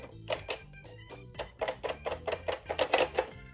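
Rapid, sharp plastic clicks sound close up from the locks of a Nerf N-Series Infinite blaster being worked, a dozen or so crisp snaps in quick succession with a faint tonal hum beneath.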